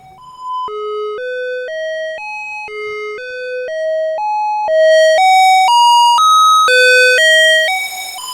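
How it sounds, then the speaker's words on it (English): Hollow, breathy physical-modelling pipe tones from a Mutable Instruments Braids modular synth step through a repeating melodic pattern, each note clear and sustained, growing brighter and louder in the second half. "Here's the third physical modelling patch, and this is based on a set of pipes."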